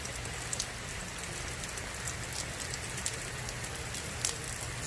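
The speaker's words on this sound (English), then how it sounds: "it's starting to rain" Steady rain pours down during Tropical Storm Cristobal, a dense continuous hiss of drops hitting surfaces outdoors, with scattered louder patters and a low rumble underneath, no voices.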